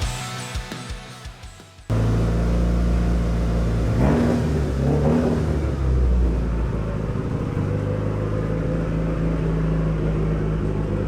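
A BMW X1 (E84) starts up and its engine settles into a steady idle, with a couple of revs as the car is driven and repositioned; loud, close and continuous.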